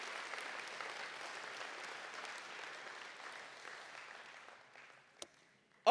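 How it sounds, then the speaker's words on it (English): Audience at an awards night livestream applauding guests: steady, moderately distant clapping that gradually fades out over several seconds, ending with a couple of sharp knocks. "What about a round of applause for those wonderful guests?"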